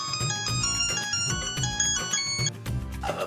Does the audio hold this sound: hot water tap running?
no